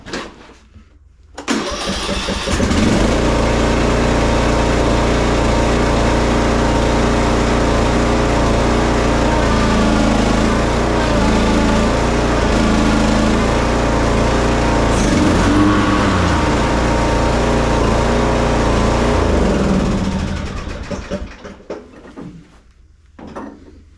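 A zero-turn lawn mower engine cranks over and starts, then runs steadily and loudly for nearly twenty seconds before dying away near the end, with no talk over it.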